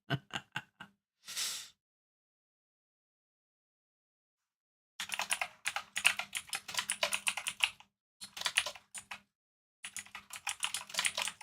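Bursts of fast typing on a computer keyboard, close and crisp, in several rapid runs separated by quiet pauses, with no talking.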